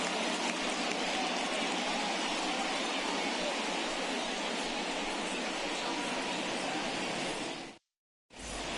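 Rain falling on a ballpark in MLB The Show 21 during a Yankees versus Rockies game, a steady hissing downpour at even loudness that drops out abruptly to silence near the end.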